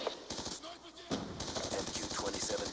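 Rapid automatic gunfire from a Dragonfire drone in Black Ops 2 rattles in dense, fast bursts, loud and close, with a short pause before the firing resumes and carries on steadily.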